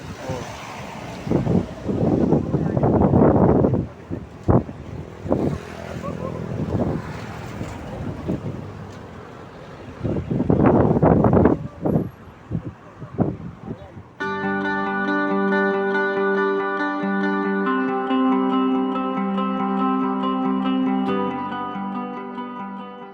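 Gusty wind at Twin Lakes in Tagaytay City, Philippines, buffets the microphone in loud bursts, then a steady tonal hum with bright harmonics takes over for the rest.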